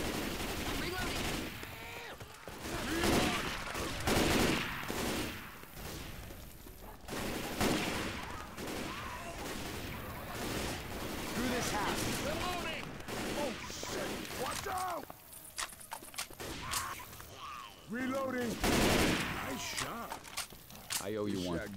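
Shotgun blasts and other gunfire against zombie hordes in the game Left 4 Dead 2, Hard Rain finale: repeated loud, sharp shots scattered through a busy mix, heavily overlapped by frequent shouted character voices.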